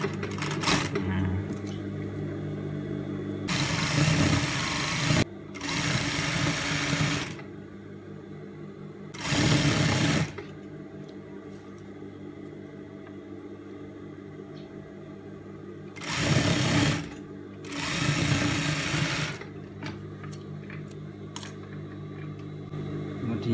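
A sewing machine stitching a sleeve hem in short loud bursts of rapid whirring, about five runs separated by quiet gaps, up close.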